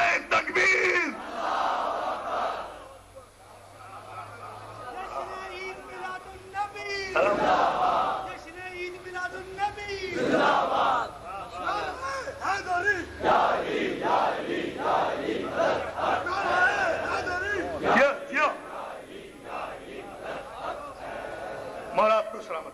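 A large crowd at an Eid Milad ul Nabi gathering shouts back in loud, surging waves of massed voices answering a religious chant, the roar rising and falling over about twenty seconds with a voice leading between bursts.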